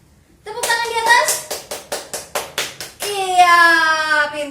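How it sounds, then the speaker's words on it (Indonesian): Young children in a Sunday school service clap hands overhead in a series of about eight sharp, evenly spaced claps, framed by children's singing voices before and after. "Tepuk tangan di atas."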